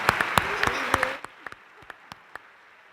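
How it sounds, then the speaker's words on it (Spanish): Audience applause at an event that starts as a dense burst of clapping with voices mixed in, then quickly thins out to a few scattered individual claps. "Yo creo que se merecen un fuerte aplauso"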